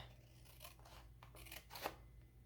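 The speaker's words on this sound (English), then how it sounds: "all we're going to do is take our scissors" Scissors trimming paper along the edge of a strawberry-themed stamped thank-you card, several quick crisp snips in a short burst, close and alone.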